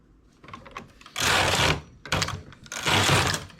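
A domestic knitting machine works a unisex collar, its carriage making two long rasping, clattering sweeps separated by quieter clicks and a brief pause, all close up.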